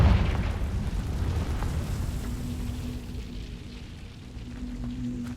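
Confringo fire spell explosion in the video game Hogwarts Legacy: a deep boom at the start that fades into a long, low rumbling tail with a faint tone underneath.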